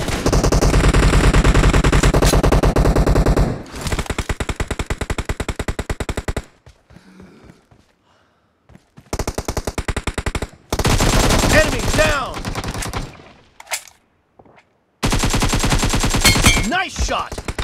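Rapid machine gun fire in a team deathmatch video game, loud bursts sustained for several seconds, broken by short quiet gaps and then resuming in further bursts.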